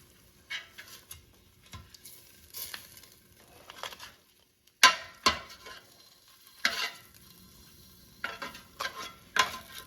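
Beef short ribs shuffled around in an air fryer basket: intermittent clattering knocks and rustling scrapes in short bursts separated by quiet gaps, close by and moderately loud.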